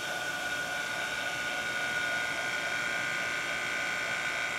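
Vacuum pump drawing the air out of a chamber: a steady, moderately loud mechanical hum and whine with a fixed tonal drone, constant and unchanging for several seconds.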